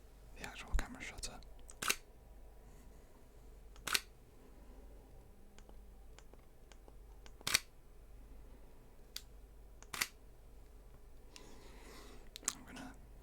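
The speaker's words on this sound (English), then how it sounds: "the actual camera shutter." Shutter of a Sony FX3 camera firing in a quiet room, several sharp isolated clicks spaced a couple of seconds apart, close and crisp over a faint hush.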